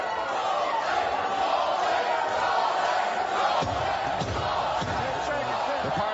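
Partisan crowd at a heavyweight boxing bout between Tomasz Adamek and Wieczysaw Gazkow, a steady loud roar of cheering throughout, with commentators talking over it.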